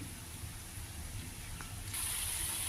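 Tamarind juice is poured into a soya chunk and brinjal curry, giving a steady, close liquid gush that grows slightly louder and fuller partway through, with no voices.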